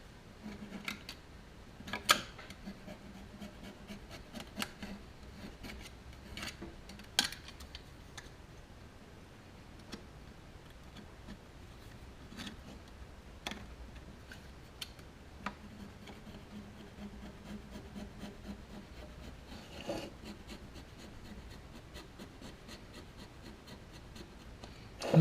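Old gasket surfaces on a carburetor from a 1966 Ford Galaxie 500 convertible are carefully scraped and cleaned, giving faint, scattered scratches and small clicks spread sparsely across a quiet background.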